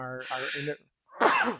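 A sneeze during a tabletop role-playing game session, one sharp close burst after a short pause, preceded by a voice speaking.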